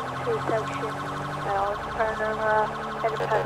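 A police car siren wails in a video game roleplay of an LAPD patrol, its tone rising and falling repeatedly at moderate level while a voice speaks over it.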